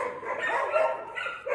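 Dogs bark together at a dog-rearing site in the mountains, a muffled, overlapping chorus of yelps and barks from some distance, continuous with slight swells.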